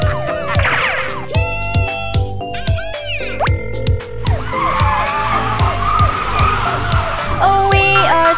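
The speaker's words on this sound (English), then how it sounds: "The bear car staggers, crashes into a tree." A cartoon car skids and crashes into a tree in a children's animated song, with rapid squealing slides and thumps over a bouncy musical backing and sound effects.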